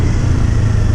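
A 471cc motorcycle engine running steadily at low volume, with a continuous low rumble and no revving, close by and with no voices.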